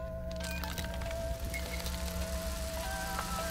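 Arctic Ballora's chiming, music-box-like theme from the video game FNaF AR plays steadily at low volume as a continuous melody with no speech.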